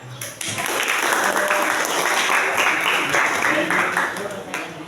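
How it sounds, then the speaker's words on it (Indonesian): A group claps together for several seconds, a dense and lively round of applause filling an indoor room before it fades out. "Oke, beri tepuk tangan untuk semuanya"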